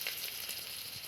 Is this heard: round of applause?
no